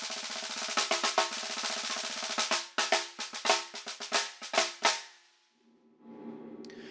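Snare drum heard only through the bottom microphone, dominated by bright buzzing snare wires: a steady rattle of rapid strokes, then spaced accented hits fading out, followed by faint low room noise.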